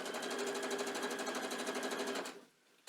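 A sewing machine stitches rickrack binding along a folded edge, a rapid even whirr lasting about two seconds before it stops abruptly, close and alone.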